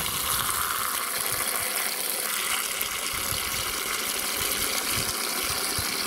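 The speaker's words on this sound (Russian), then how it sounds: "Вот так мы наливаем сироп." Sugar syrup pours into a beehive feeder in a continuous, splashy gush of liquid that runs steadily and fairly loud for the whole stretch, with no talking over it.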